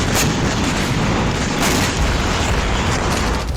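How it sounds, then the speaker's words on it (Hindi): Heavy blasts from an Israeli air force bombing raid in southern Gaza, a dense, continuous roar of booming explosions that stays loud and rumbling throughout, with no voices. "इजरायली वायुसेना दक्षिण गाजा में हमास के ठिकानों पर बमबारी कर रही है।"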